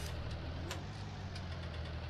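A tractor engine in Farming Simulator 19 hums steadily at a low idle-like rumble, even and unbroken throughout.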